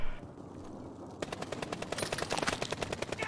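Rapid automatic fire from an M13 assault rifle in Call of Duty: Warzone, a sustained burst of evenly spaced sharp cracks starting after a quiet second and running loud to the end.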